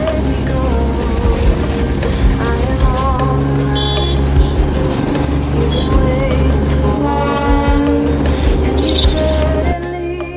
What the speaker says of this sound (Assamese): চহৰৰ মাজে মাজে চলি আছে ট্ৰেইন।